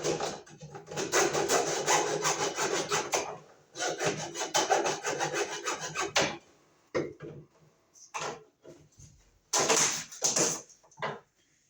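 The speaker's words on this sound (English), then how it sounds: "we're going to cut it right here. We'll use our hacksaw." A hacksaw cuts through metal-clad MC electrical cable in repeated bursts of rasping back-and-forth strokes, close and loud, pausing between runs of sawing.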